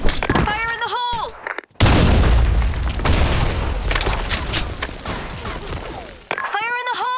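Grenade blasts in a shooter video game, a heavy booming explosion with crackling debris that fills several seconds and slowly decays, framed by short bursts of in-game radio voices before and after.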